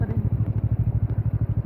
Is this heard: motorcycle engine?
yes